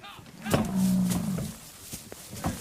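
A large bovine lets out a single drawn-out low moo while animals are loaded into a trailer in Canada, close and fairly loud, with clattering knocks and handling noises before and after the call.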